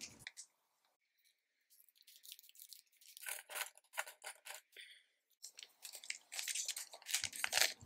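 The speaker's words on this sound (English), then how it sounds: "Let me just get some scissors to cut this open." Scissors snipping and crunching through packaging around a new Sailor Pro Gear Slim fountain pen, a burst of crisp close cuts, brief pauses, then a denser run of snips and rustling, no talking.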